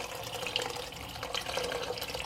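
Hot water running into a pressure cooker holding washed chickpeas, a steady close splashing, filling stream with no talk.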